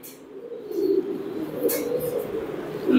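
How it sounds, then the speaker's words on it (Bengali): An opal checker Mookee pigeon coos close by, soft low throaty coos rising and repeating over a few seconds in a quiet setting. "এই যে দেখেন এই একটা অপাল কবুতর।"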